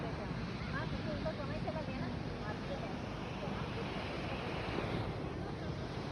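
Sea waves wash onto a beach at Havelock in the Andaman Islands, a continuous broad rushing surf mixed with wind noise on the microphone.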